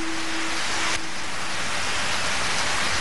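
Steady rain falling, a dense continuous hiss that stays even and close throughout, with no voices over it.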